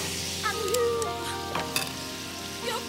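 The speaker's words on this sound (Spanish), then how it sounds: "Vamos a saltear." Tomatoes sautéing in a pan for a green sauce, sizzling and crackling steadily up close, with a faint voice and a few utensil clicks in the background.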